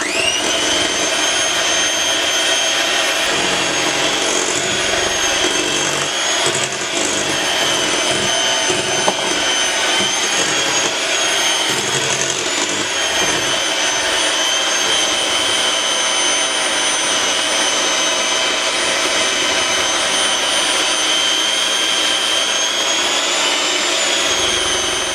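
An electric mixer blends flour into 7 Up pound cake batter, a loud steady whirring drone running unbroken and close throughout with no talk.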